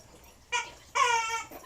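A dog plays with a toy chicken, drawing out two strained, squealing cries close by, a short one and then a longer one, with no voices.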